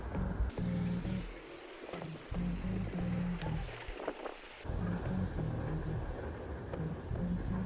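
Steady wind buffets the microphone outdoors at a beehive, a constant low rumbling roar with gusty surges and no clear speech.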